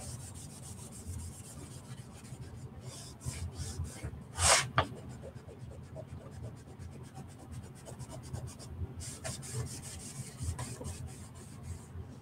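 Dark wax is rubbed by hand onto a chalk-painted wooden pallet sign, giving soft, quiet, repeated scrubbing strokes with one sharper scrape partway through.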